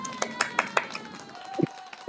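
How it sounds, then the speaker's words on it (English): A woman claps for herself, a short run of about five quick, sharp claps with a couple of louder hand sounds near the end, close and fairly quiet. "I'm gonna give myself some applause"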